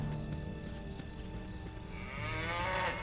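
A cow moos in the Baldur's Gate video game, a low drawn-out bovine call over steady in-game ambience and faint background tones, swelling louder toward the end.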